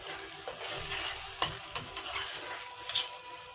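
Spices for beef curry frying in oil, a gentle steady sizzle with several scraping stirs and light spatula knocks, close and fairly quiet, no voices.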